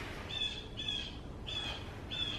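Birds call outdoors, giving four evenly spaced squawking calls that repeat in a steady rhythm. They sound somewhat distant and faint over a low background hiss.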